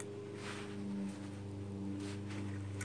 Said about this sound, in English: excuse the lawnmower if you can hear it